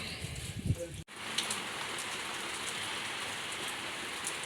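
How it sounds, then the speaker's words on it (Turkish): Rain falls outdoors in a steady, close hiss of drops hitting surfaces, preceded by a brief soft knock and rustle. "Dostlar yağmur yağıyor. Maşallah yağmur da güzel yağıyor."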